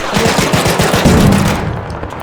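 An automated turret in Arc Raiders fires a rapid, rhythmic burst of loud, close gunshots that roll into a denser, continuous barrage before trailing off.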